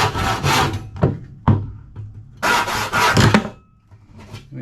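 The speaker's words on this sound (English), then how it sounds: "make sure the saw is following that second angle" Hand saw cutting timber trim on a production yacht refit, rasping back-and-forth strokes in bursts with brief pauses, close and clear with no talking.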